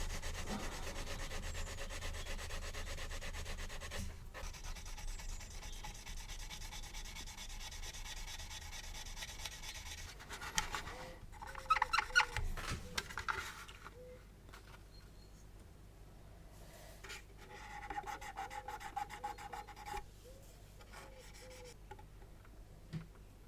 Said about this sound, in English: Let's finish these lamps off with a little bit of Tamiya compound. This is the coarse grade.